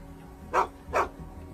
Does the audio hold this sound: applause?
no